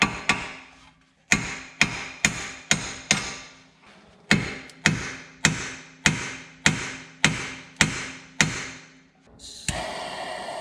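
Sharp, evenly spaced hammer blows on a seized ball joint of a BMW E39 M5's suspension, about a dozen strikes in two runs, each ringing briefly before the next, with a short pause between runs.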